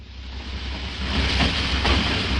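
Express train halting at Hongsan station, a loud close rumble of wheels and carriages with rising wind-like roar, no voices.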